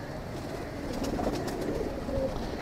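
Rampuri pigeons, long-legged birds in a loft, give soft repeated cooing calls over a muffled background, fairly close and moderately loud.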